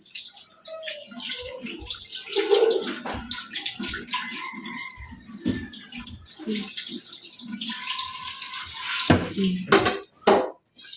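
Laundry being washed by hand with water, splashing and sloshing in bursts throughout, fairly close, with a louder flurry of water near the end and some background voices.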